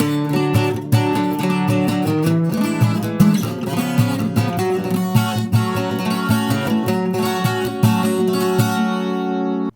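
A strummed requinto guitar plays a flowing minor-chord passage with a moving bass line, steady and close, with no voices.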